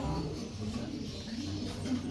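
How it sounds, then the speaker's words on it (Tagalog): Pigeon cooing nearby, a low steady murmuring coo running through the whole short stretch, with no voices over it. "bagong kalapati na naman"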